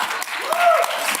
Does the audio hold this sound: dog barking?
no